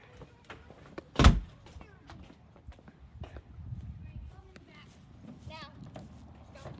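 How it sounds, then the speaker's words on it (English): A door is opened with one sharp, close knock or clack, followed by quieter shuffling steps and faint movement around the doorway. "And open the door."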